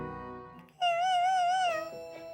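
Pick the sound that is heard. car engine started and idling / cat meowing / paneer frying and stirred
cat meowing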